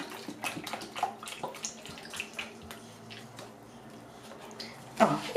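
Liquid is poured into a pan of stuffed red peppers, giving a soft, steady splashing and trickling sound with small drips, ending in a brief louder splash near the close.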